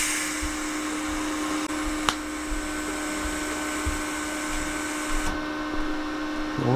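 VEVOR 210 Amp IGBT inverter TIG welder arc welding, a steady high-pitched buzzing whine that holds for several seconds, then cuts off, with a few faint clicks.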